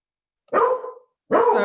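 A dog barks twice, close and loud: one sharp bark trailing off, then a second after a short pause, with no talk over it.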